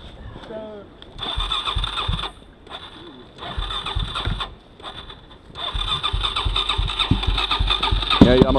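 An engine cranks with the throttle held open, catching in repeated bursts of loud rough running separated by brief pauses before settling into sustained revving, with people talking nearby.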